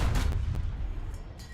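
A Sherman tank's main gun fires at a Panzer IV in a World War II video game: a single heavy, booming cannon blast with a rolling rumble that fades away, heard close and with no talk over it.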